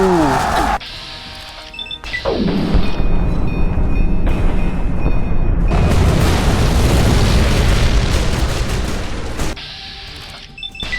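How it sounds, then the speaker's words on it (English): A large explosion in the video game Fallout: New Vegas at the Hoover Dam finale, a loud sudden boom followed by a long roaring, crackling rumble that holds for several seconds before cutting off, with a brief second blast near the end. "What provided that explosion?"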